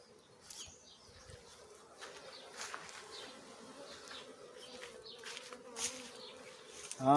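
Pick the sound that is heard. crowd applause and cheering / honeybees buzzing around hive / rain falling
honeybees buzzing around hive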